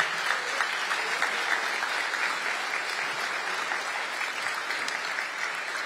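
Sustained applause from a large crowd at a presidential inauguration ceremony for South Korea's 21st president, a dense steady roar of clapping with no letup, fairly loud and close.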